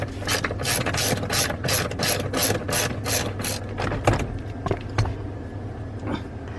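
A ratchet wrench works a bolt loose on the steering column of a Ford F-150 pickup, giving a fast, even run of loud close clicks that then breaks into a few slower, fainter clicks and knocks.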